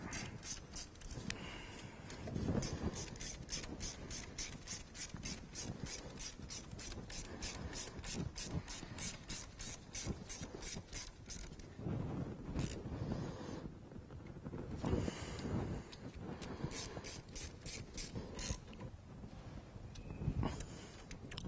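Spark plugs on a Fiat 500 are tightened one by one with a hand ratchet, giving quick runs of crisp metallic clicks in bursts, with short pauses between them and no talk.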